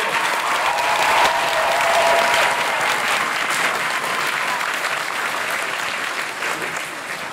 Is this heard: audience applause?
yes